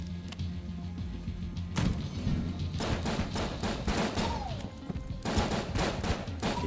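Rapid bursts of enemy gunfire and impacts in the Enter the Gungeon game, shots crackling in dense volleys with thuds mixed in, loud and continuous throughout.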